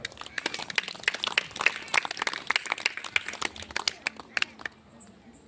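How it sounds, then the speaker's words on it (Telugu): Applause breaks out from a congregation at a church foundation anniversary service, a dense spread of many hands clapping that stays fairly steady for several seconds, then thins out and fades near the end. "అవునన్న వాళ్ళు చప్పట్లు కొట్టండి"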